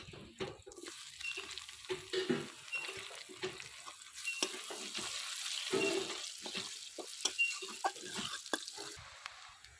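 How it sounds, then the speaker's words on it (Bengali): Chopped onion frying in the oil left from frying prawns, a steady close sizzle broken by repeated scraping and clatter of stirring, with no talking. "তেলেই দিয়ে দেব পেঁয়াজ কুচি"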